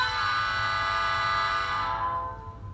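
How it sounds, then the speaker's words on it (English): A model train's air horn, from a Ausicion 85 class locomotive, blows a steady, buzzy multi-tone blast for over two seconds before trailing off, slightly strained and weak in tone. "Function 2 is air horn."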